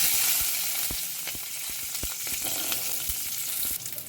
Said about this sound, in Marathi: तो लसूण बरें ब्रावन जाय आसा आनी आमकां बरें भाजून घेवंक जाय.